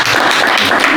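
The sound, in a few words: audience applause at info session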